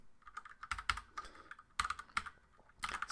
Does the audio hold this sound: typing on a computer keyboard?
yes